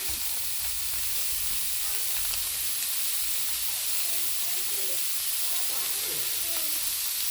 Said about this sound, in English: So I'm going to add this garlic butter to it.